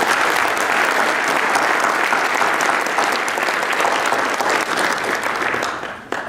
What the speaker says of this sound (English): So if we can just give a round of applause and thanks to Dr. Goldstein.